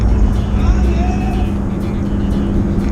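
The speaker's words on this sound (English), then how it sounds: "Back in Poes' truck." Riding inside a truck, a steady, loud low engine and road rumble fills the cab without a break.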